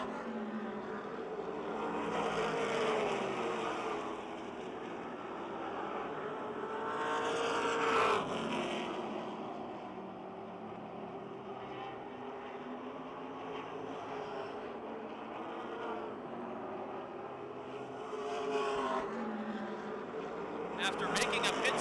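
Race cars roar around the Motordrome Speedway oval in close battle, engines swelling past in repeated Doppler sweeps and fading off, with a race commentator talking over the noise.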